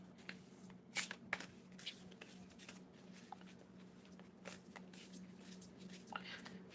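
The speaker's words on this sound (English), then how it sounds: "Bigger cards, they just shuffle so much better." Playing cards shuffled at a live tarot reading table, a few crisp riffling bursts standing out over a low steady room hum, with faint murmuring in the background.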